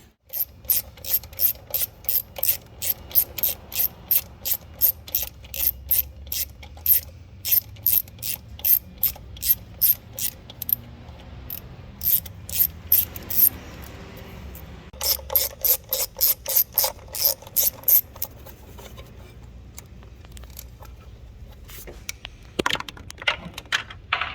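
A ratchet clicks in quick repeated bursts, loosening 10mm bolts on a Jeep Grand Cherokee WK2 diesel intake manifold in rhythmic strokes with short pauses between sets, close and clear.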